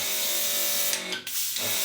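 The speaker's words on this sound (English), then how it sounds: "And I just spray it on my face." Two short hissing bursts of a cool tap-water facial mist sprayed onto a face, close up, over a steady background hum.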